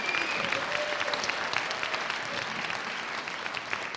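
Applause from an audience at an opening-night event, thanking the caterers, Heartline Catering. Steady clapping from many hands, fairly close, with no speech over it.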